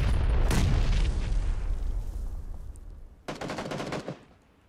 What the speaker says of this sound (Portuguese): Fala que choveu granada aqui.